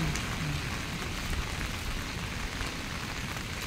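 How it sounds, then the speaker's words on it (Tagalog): Steady rain falls on a wet morning outdoors, a dense, even hiss of drops on surfaces that continues throughout with no voices. "See, ulan."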